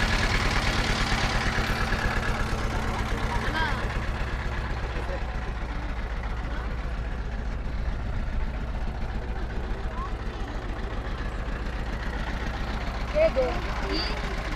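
An engine-powered motor boat crosses the wide Meghna river near a ferry ghat, its steady mid-pitched engine droning continuously at close range with a faint rhythmic chug, while voices talk over it.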